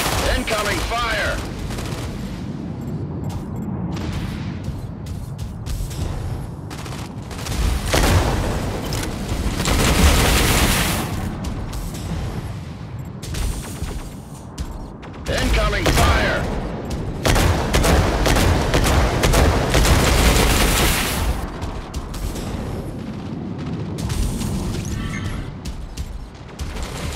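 In the Mech Arena video game, bursts of rapid gunfire and booming explosions swell and fade in waves over a continuous battle din, with a voice talking at times.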